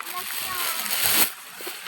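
Water splashes and sloshes loudly through an irrigation canal, a continuous rushing surge that swells briefly toward the end, heard close by with faint voices in the background.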